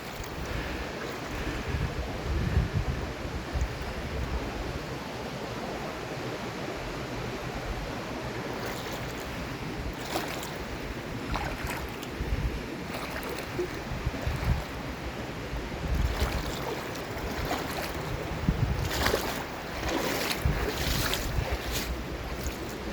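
Water rushes through a rocky canyon with a constant broadband roar and some wind buffeting on the microphone. It is steady and moderately loud, with no talking.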